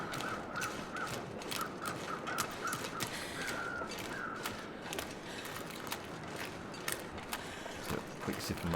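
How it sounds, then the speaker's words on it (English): Crows caw repeatedly in the distance, a series of harsh calls in uneven bursts over a busy, noisy outdoor background with clicking and rustling nearby, and no talking. "I hear all the crows back that way."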